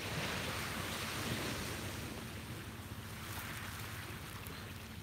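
Ocean waves wash onto a beach before sunrise in a steady broad roar with wind buffeting the microphone, continuous and fairly loud, with no voices.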